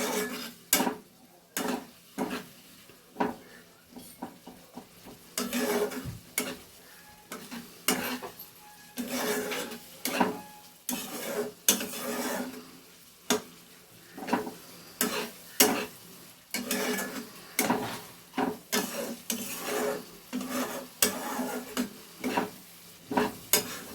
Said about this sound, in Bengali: মশলাটাকে ভালো করে কষে নেব